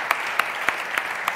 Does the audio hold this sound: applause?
yes